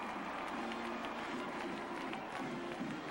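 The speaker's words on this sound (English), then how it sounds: "that gives that overflow crowd here in Huntington something to cheer about tonight" Overflow stadium crowd in Huntington cheering a Marshall field goal against Georgia Southern at a 1993 college football game, a dense steady roar of many voices filling the whole stretch at constant loudness.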